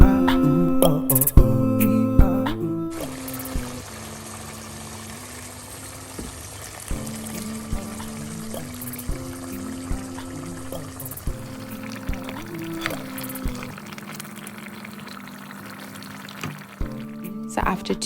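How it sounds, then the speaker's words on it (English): Water poured into a pot of oxtail stew that has been boiling for about an hour and a half, a steady pouring wash running throughout under background music. "I decided to add some more water to it so that it can boil for the remaining 30 minutes."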